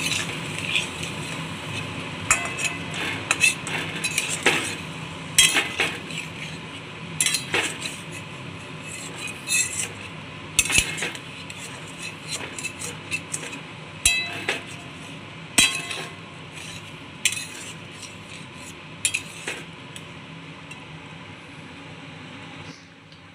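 Potatoes with onion and spices such as cumin and coriander are stirred in a pan, with metal spatula clinks and scrapes recurring at an irregular rhythm, close and fairly loud.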